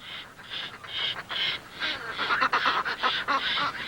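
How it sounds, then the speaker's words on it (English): Repeated harsh, throaty fulmar calls in quick bursts, several birds cackling together at close range, growing busier toward the end. "They're noisy birds, never minding an excuse for a good gossip and cackle"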